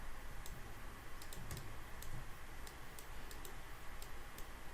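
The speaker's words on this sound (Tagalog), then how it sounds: "Pasensya na sa mouse, napakaingay." Sharp, quiet clicks from a computer mouse come irregularly over a steady background hiss, with no one speaking.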